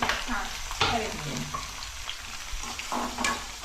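Onion, tomato and green chillies fry in a pan, a continuous close sizzle broken by scraping and stirring strokes of a spatula.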